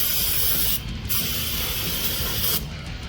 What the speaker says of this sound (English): I'm going to go ahead and get a little bit of brake clean.